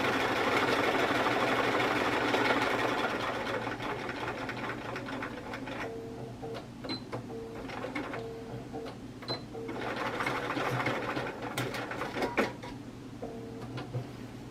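A domestic sewing machine stitches along a line with its needle set off-centre, a steady mechanical whir running through most of the passage, loudest at the start and easing slightly, with a few brief pauses and clicks.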